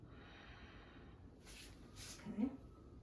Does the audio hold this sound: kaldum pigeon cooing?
no